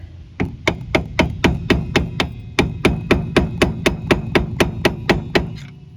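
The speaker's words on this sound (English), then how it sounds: "Take a hammer and pop that bolt out that way." A hammer knocks a rear strut bolt out of a 1991-2003 Ford Escort or Mercury Tracer with about eighteen sharp, evenly spaced metal strikes, loud and close, repeating in a steady rhythm with no talking.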